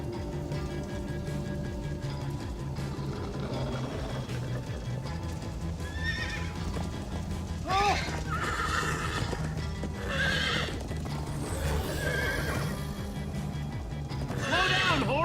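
A horse in Minecraft Story Mode whinnies several times over steady clip-clopping hooves at a gallop, loud and close, with game music underneath.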